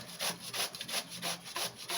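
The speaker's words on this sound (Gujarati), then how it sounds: "જોઈ શકો છો આપણે કેરીનું ખમણ કરી લીધું છે." Raw mango is grated for gunda pickle, giving quick, rhythmic rasping strokes, about seven in two seconds, close and clear with no talk.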